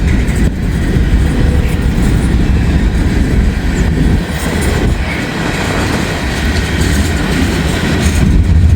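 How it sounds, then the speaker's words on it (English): A very long train rolls past close by on a misty, lightly rainy evening: a loud, continuous rumble with rhythmic wheel clatter and faint squeals, unbroken from start to finish. "this is a super long train"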